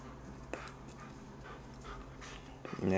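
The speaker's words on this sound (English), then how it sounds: "Crazy dog." A playful dog chewing a bitten-up wooden block pants quietly and steadily, with a few soft whimpers. A closer, louder rustle comes in at the end.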